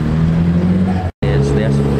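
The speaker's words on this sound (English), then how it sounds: "I can hear cars in the distance." A steady low rumble of distant traffic hums at a seafront car meet in Yarmouth, broken by a brief silent gap, with no close vehicle standing out.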